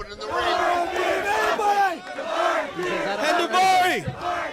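Loud wrestling crowd chanting in rhythmic bursts at a lumberjack strap match in Portland, many voices rising and falling in repeated phrases.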